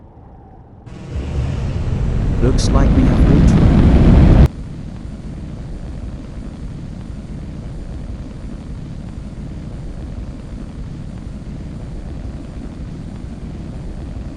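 Rocket booster engines fire up for a landing burn, a loud roaring rush that swells for a few seconds and then cuts abruptly to a steadier wind-like noise, with a brief spoken remark.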